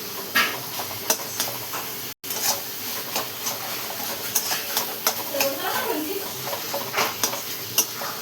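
Raw tomato chutney being sautéed in a pan, with a spoon scraping and tapping against the metal at irregular intervals over a soft steady sizzle.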